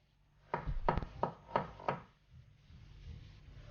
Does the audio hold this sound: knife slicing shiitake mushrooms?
yes